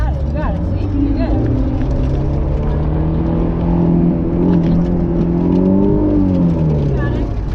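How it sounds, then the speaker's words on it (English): A manual-transmission car engine revs steadily and close by, its low drone rising and falling in pitch over several seconds, with voices talking over it. "Just rev it."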